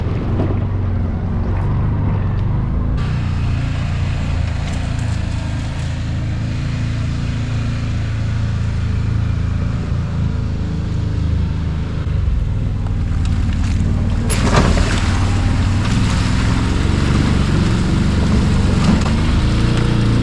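A Can-Am Defender Limited side-by-side's engine drones steadily at low pitch in low gear as it crosses a creek, with rushing water and wind buffeting the microphone throughout, louder splashing toward the end.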